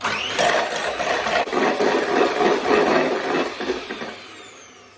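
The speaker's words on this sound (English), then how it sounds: "I'm just going to whisk the egg whites, so what I've separated before, and just whisk these until they're nice and fluffy" Egg whites whisked with an electric mixer until fluffy for a gluten-free lemon pudding, a loud close motor whir with rattling beaters that winds down and stops near the end.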